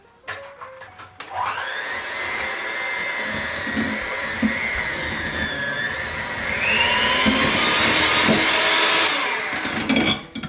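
An electric hand mixer whirs steadily through butter, vanilla and sugar for gluten-free chocolate chip kiss cookies, a close continuous motor drone that rises in pitch and intensity partway through before cutting off.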